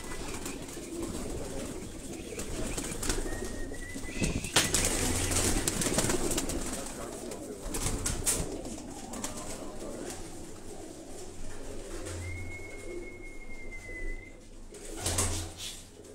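Pigeons from a pigeon-flying squad in Gulshan-e-Maymar, Karachi, soft repeated cooing close by with a few sharp flutters and two drawn-out whistle-like tones, over a steady outdoor background, no voices.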